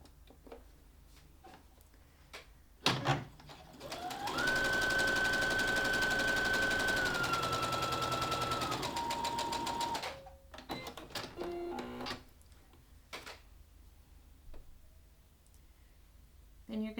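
A sewing machine stitches a seam along the short edge of scrunchie fabric in one steady whirring run of about six seconds, slowing near the end, with scattered handling clicks before and after.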